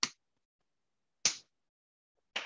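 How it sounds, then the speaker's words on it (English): Three crisp, isolated finger snaps ring out about a second apart, each a sharp close click in total silence with no voices. "here we go, there's a finger snap"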